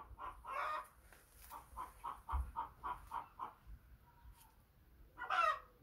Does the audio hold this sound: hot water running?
no